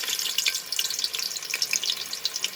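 Leftover white onions sizzle in hot ghee, a close bright crackle of spitting fat and bubbling that rises and falls irregularly without pause.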